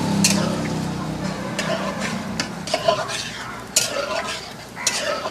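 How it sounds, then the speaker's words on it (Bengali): Chhana being stirred into malai in a pot over a clay village stove, with a spoon scraping in repeated strokes under a soft simmering sizzle, close up, and a few brief voice sounds in the background. "এই ছানাটা দিয়ে এবার আমি ভালো করে নাড়াচাড়া করে নেব"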